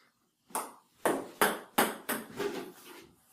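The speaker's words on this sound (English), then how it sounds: "As I'm moving out of the way before you hear the bounce." A table tennis ball bounces six times during a backhand sidespin serve practice, sharp close pings with uneven spacing, the later ones quicker and softer, with no talking.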